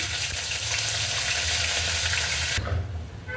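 Onions sizzle in a pan for a bitter gourd curry, a steady, close frying hiss that drops suddenly near the end, with no voices.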